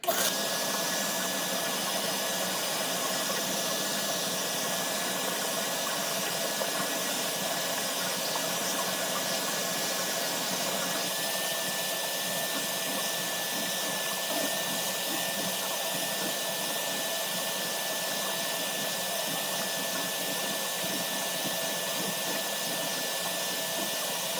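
A Bissell Little Green Machine spot cleaner runs continuously while spraying and soaking a stain from about an inch above, a loud, steady motorized whine and hiss with a faint tonal hum throughout.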